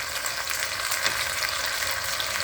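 Meat and potatoes fry in a pan with a dense, steady sizzle and crackle. It holds at an even, close level throughout, with no voices.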